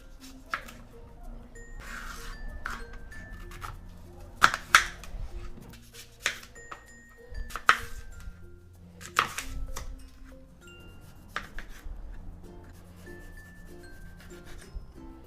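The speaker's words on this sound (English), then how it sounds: "Okay, so now we're going to cut it up so it can fit inside." A knife chopping fruit and vegetables for green juice on a board, scattered sharp cuts and rubbing sounds at an uneven pace, close up, with faint background noise and no clear talk.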